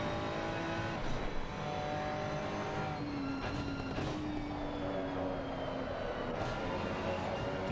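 GT3 race car engine droning loudly and steadily under throttle at Imola in a sim racing game, with pitch sweeps as it shifts through gears, heard alone without talk.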